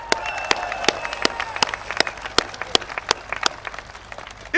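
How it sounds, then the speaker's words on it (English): A political rally crowd in Hougang, Singapore, claps in scattered bursts with sharp individual claps standing out over a steady murmuring crowd, with no one talking. "Give yourself another round of applause."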